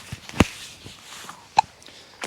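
A young girl's hiccups near a duck house under construction, a few short, sharp isolated catches spaced apart with quiet between them.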